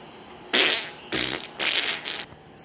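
Three separate farts in quick succession, each a loud, close, sputtering burst lasting about half a second with short gaps between, standing out against a quiet background.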